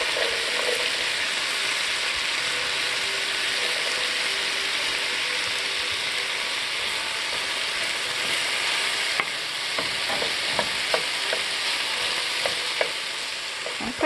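Chopped onion frying in a pan during turkey meal prep, a steady close sizzle throughout, with scattered light clinks and stirring taps toward the end.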